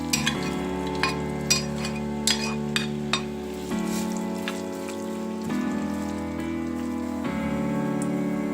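Onion sizzles in hot vegetable oil for a fish stew, a crackling frying hiss with sharp pops near the start, heard under steady background music with no talking.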